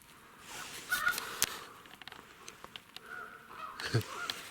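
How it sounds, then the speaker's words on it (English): Several birds call in an outdoor wooded spot, with goose-like honks and crow-like caws scattered across the moment, a few sharper calls standing out nearby while others sound fainter and more distant. "There's so many birds here."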